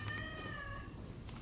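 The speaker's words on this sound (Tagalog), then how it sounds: "pusa ay kumain na kayo ah" A cat meows at a house in Sta. Cruz, Laguna, giving one drawn-out call with a steady pitch that sits over faint room noise. Nobody speaks.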